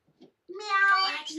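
A voice imitates a cat, singing one drawn-out, tuneful meow in a song from an animated movie, close and clear after a couple of tiny sounds.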